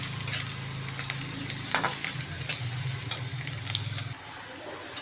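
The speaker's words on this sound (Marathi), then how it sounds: "कांदा आपल्याला लालसर होईपर्यंत भाजून घ्यायचा आहे।" Chopped onion fries steadily in a pan until reddish while a methi and moong dal bhaji is being made. A continuous close sizzle carries light scraping from stirring, over a low hum that drops away near the end.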